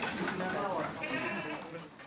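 Goats bleat at a livestock farm in Gendong Sari village, Blora, raising sacrificial animals, their wavering calls overlapping under a person talking steadily throughout.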